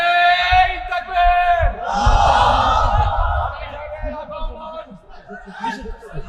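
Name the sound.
crowd shouting takbir (Allahu Akbar) at a sermon gathering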